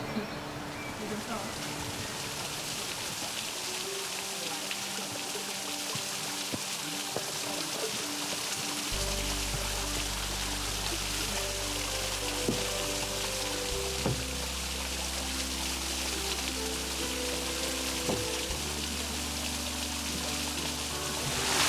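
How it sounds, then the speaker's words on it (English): Dense, steady roar of a waterfall's spray and falling water on the Levada do Rei hike, heard up close from behind the falls, continuous throughout with low engine-like hum tones layered in. "There's absolutely no way of being able to get past that waterfall without properly getting wet."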